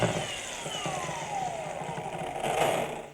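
A Milwaukee M18 brushless cordless string trimmer, model 2828-20, runs continuously with a steady whirring motor drone and a sliding pitch, close up and alone.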